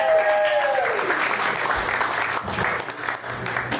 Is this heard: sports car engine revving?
no